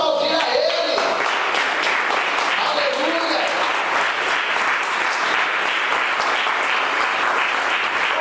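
A church congregation applauding during worship, dense sustained clapping at steady volume with voices mixed in beneath the crowd.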